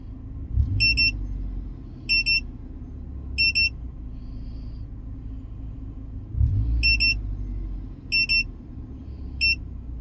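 KONNWEI KW206 gauge sounds a repeated high electronic alarm at 1,000 RPM, three sharp triple-beep bursts, a pause, then three more, over a steady engine idle rumble.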